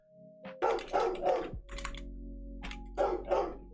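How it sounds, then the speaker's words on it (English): A dog barks several times in short bursts nearby, heard alone against a steady low hum in a room during a software pipeline tutorial. "I'm going to let me see what she's barking at"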